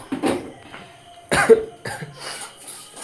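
Several harsh coughs come close by in uneven bursts separated by short quiet gaps.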